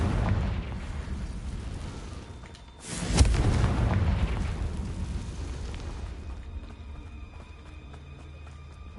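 Hogwarts Legacy's Confringo fire spell explodes in a deep, loud boom that swells suddenly, then rumbles and crackles away over several seconds, with no voices.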